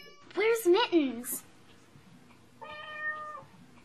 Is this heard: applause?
no